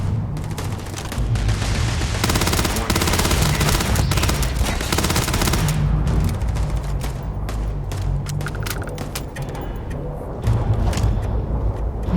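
Sustained rapid gunfire and automatic weapon bursts from a Starfield firefight, loud and dense throughout with heavy low booms, keeping on with little pause.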